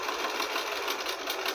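A sewing machine back stitching the start of a seam on a kimono-style robe, a steady, close, continuous mechanical whir with a fast even rhythm and no talking.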